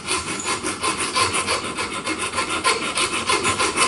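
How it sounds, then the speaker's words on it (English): A triangular file rasps steadily across a metal rod clamped in a vise, scoring it for a homemade alcohol-burner pot stand; loud, close, rhythmic back-and-forth strokes with no talking. "Put it in my vise, and I use a triangular file"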